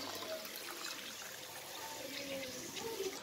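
Water poured into mutton curry being prepared for restaurant-style biryani, a soft continuous splashing and trickling, faint and fairly steady throughout.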